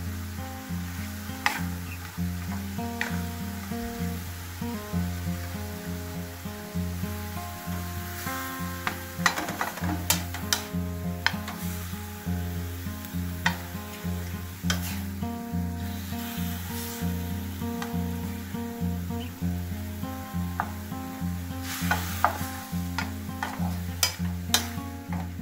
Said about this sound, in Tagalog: Haluin po muna natin.